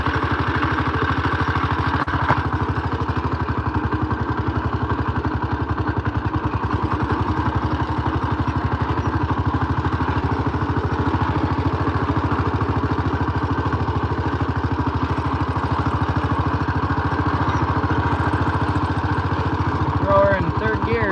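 A Super C tractor engine runs in neutral after starting on a low battery, a steady mid-pitched chugging idle that stays loud and even throughout.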